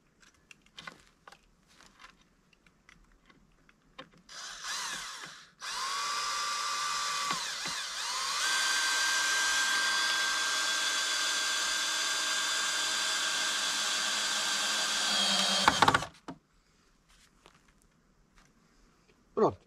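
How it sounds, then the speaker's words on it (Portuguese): A power drill drives self-drilling screws into wooden boards, giving one long steady whirring run of about ten seconds after a short burst, with brief knocks and shuffling around it. "Estes parafusinhos têm uma particularidade, têm uma broca na ponta, então"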